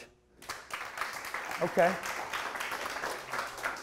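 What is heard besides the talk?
audience clapping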